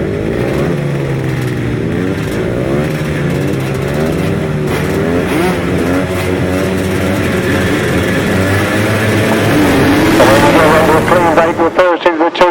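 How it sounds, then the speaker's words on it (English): Several 250-class grasstrack racing motorcycles roaring off the start line together, a loud dense wall of rising and overlapping engine revs, with pitch sweeps as they accelerate away and fade near the end. "Clean break with first into the 250, Jake Mulford making a good start"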